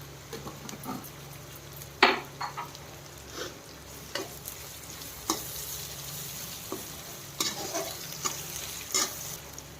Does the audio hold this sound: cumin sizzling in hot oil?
yes